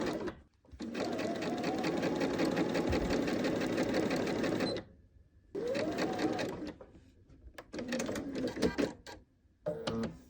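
A sewing machine runs straight stitches through quilt pieces in bursts: a long steady run of rapid mechanical chatter, a brief pause, then several shorter runs, close and clear with no talk.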